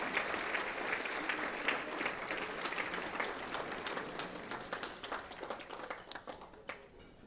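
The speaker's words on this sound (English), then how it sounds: "Give them a big, big round of applause." An audience at Santa Ana's 2022 State of the City address breaks into sustained, dense applause, many hands clapping loudly at first and then gradually thinning and fading toward the end.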